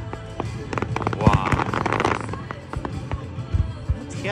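Fireworks at the EAA AirVenture Oshkosh air show pop and crackle in irregular bursts, some sharp and close, mixed with crowd noise and excited voices.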